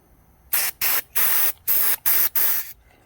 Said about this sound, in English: So basically that's all you're going to do is just spray in there.